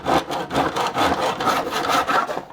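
Hand saw cutting through wood in steady back-and-forth strokes, close and loud, with a continuous rasping texture and no talking.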